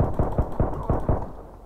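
In a shooter video game, a quick series of six or seven low, punchy thuds follows one another in an even rhythm before fading out.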